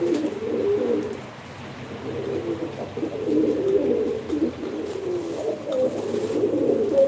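Pigeons at a live play-bird auction in Ankara give low, continuous cooing, a dense murmur of calls at moderate distance with no voices over it.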